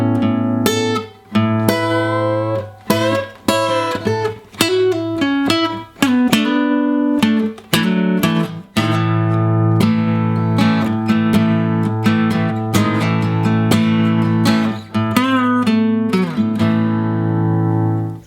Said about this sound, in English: I'm going to show you how to play the intro section